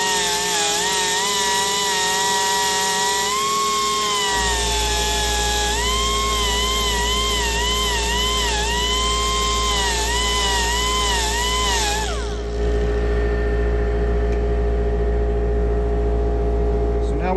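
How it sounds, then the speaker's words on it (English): A seashell pen blank spins on a lathe with its steady motor whine and tonal hum throughout. The sound shifts in pitch around the middle and drops to a lower drone near the end, and no one speaks over it. "then we can go back to the sanding pads and put our finishing touches on our edges and our bushings and get our final shape."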